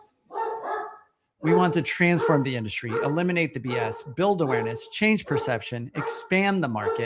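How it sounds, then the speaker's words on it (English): Dogs in a home recording space barking and whining in the background, mostly buried under a man's steady, close talking, with a brief whine-like yelp audible before he starts speaking. "You can probably hear our dogs losing their mind in the background."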